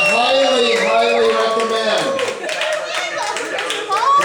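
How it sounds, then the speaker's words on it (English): A nightclub cabaret audience claps for a round of applause, the clapping partly buried beneath a loud, strongly voiced sound from a performer who keeps talking over it. "Give her a round of applause."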